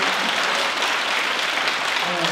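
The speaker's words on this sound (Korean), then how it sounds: "응원의 박수 한번 부탁드려도 될까요?" An audience applauds at a faculty ensemble's regular concert, dense and sustained clapping that fills the hall at fairly strong volume, with faint voices mixed in.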